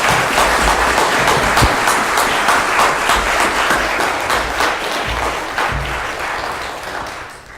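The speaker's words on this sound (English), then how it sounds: "Round of applause for these dramatic leaders." A church congregation applauds loudly and steadily, a dense sustained clapping from the whole room that fades slightly toward the end.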